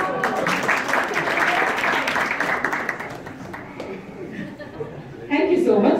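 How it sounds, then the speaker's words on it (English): An audience applauds a team on stage at a 4K BenQ projector launch event, a steady wash of clapping mixed with chatter and voices that swells again near the end. "A big round of applause for them"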